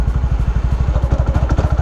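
A learner rider's motorcycle engine pulses in a loud, rapid, even chug close by as the clutch is let out and the throttle held open, with no talk over it.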